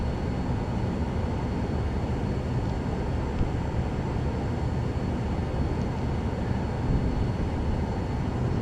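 A steady, loud roar of airliner jet engines during takeoff in Microsoft Flight Simulator, leaving Budapest Liszt Ferenc airport, a dense broadband rumble holding constant throughout with no talk.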